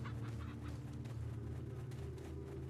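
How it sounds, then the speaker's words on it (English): Chicken clucking and squawking in Resident Evil 4, a steady agitated fowl racket over a constant low game ambience hum, with no talk. "Chicken just literally flipping his crap."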